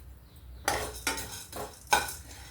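Peppercorns and spices roasting dry in a pan for kootu powder, stirred with a metal spoon that scrapes and clinks against the pan in three or four distinct strokes, close by and with no talk.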